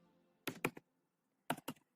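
Typing on a computer keyboard: two quick pairs of crisp, close key clicks separated by a short pause, alone against a quiet background.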